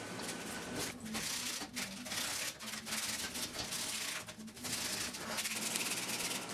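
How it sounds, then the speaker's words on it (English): Sandpaper and wire brushes scrub rust off the frame of a 1966 Triumph Spitfire MK2, a continuous close, rasping scrape made of repeated back-and-forth strokes with brief pauses between them. "First I removed the rust as much as possible using sandpaper, wire brushes, wire wheels, etc."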